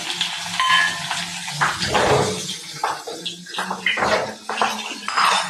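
Asafoetida and green chilies crackle and sizzle in hot oil for a tempering over khaman dhokla, with a broad spitting hiss and bursts of sharper spatter near the microphone, while a pan or utensil clinks now and then.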